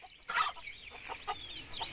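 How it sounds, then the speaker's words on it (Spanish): Hen-like clucking sounds in a short burst of several squawky calls, faint and close, in what seems to be a storybook setting about a little tractor. "Cloqueó Winnie más fuerte."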